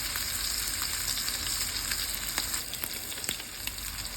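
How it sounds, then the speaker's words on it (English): Steak frying in hot butter in an iron skillet on a burner turned to high, giving a steady, dense sizzle with small crackles and pops, close and loud with no voices. "we've had this steak in this hot sizzling butter in an iron skillet on a burner turned to high"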